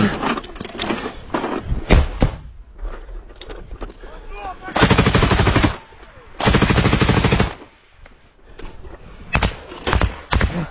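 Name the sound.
automatic gunfire during assault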